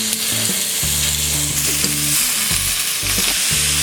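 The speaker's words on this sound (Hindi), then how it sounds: "तो 2 मिनट तक फ्राई करेंगे।" Flat beans (val papdi) with salt and turmeric frying on high flame in a pan, a steady close sizzle with intermittent stirring scrapes, no talking.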